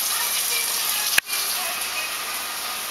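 A small child sits playing in water with little cups, giving a steady wet, hissing splash and one sharp, close splash partway through.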